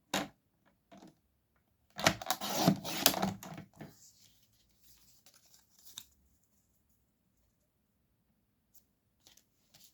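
Acetate card being cut to size with scissors or a trimmer for a Hunkydory card, a brief burst of close crisp snipping and crackling plastic, then a few faint ticks and handling clicks in an otherwise quiet room.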